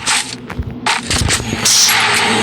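Gunfire in quick bursts, loud, close and sharp, with rapid clusters of shots broken by short gaps and a ringing tail near the end.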